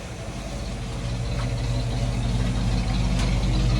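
Original motor of a 1957 Chevy with its original carburetor, brought back to life after more than twenty years sitting, running at a steady close idle with a rough, even rumble throughout.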